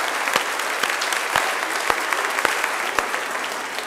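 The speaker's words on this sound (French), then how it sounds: "On va les applaudir aussi." Applause from a church congregation at a celebration, a continuous crowd of hands clapping with a few regularly spaced louder beats cutting through, as if some clap in rhythm, steady and fairly close throughout.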